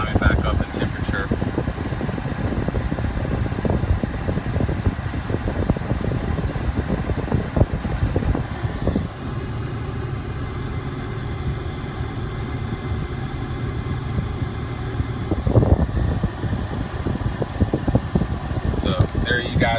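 A steady fan and air-conditioning whir from a Jeep Cherokee Classic with a Stage 2 build and 58,000 miles, running continuously at idle with engine hum beneath and someone talking over it.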